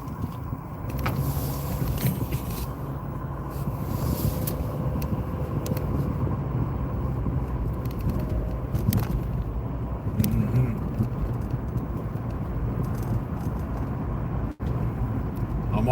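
A car drives steadily on a morning commute, a continuous low engine and road rumble heard from inside the cabin, with a brief dip near the end and faint talk.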